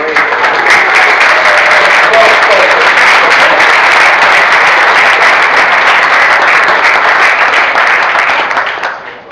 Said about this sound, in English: And a big round of applause for these brave